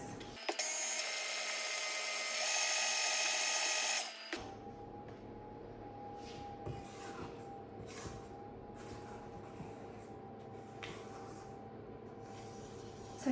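An electric mixer whisks cake batter for an old-school sprinkle cake, running with a steady high whir that rises in pitch briefly, then shifts to a lower, quieter motor hum with scattered clicks.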